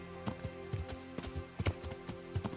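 Horse hooves in Kingdom Come: Deliverance clip-clop in an uneven galloping rhythm, sharp thuds repeating over a faint background hum, moderately close and quiet, with no talking.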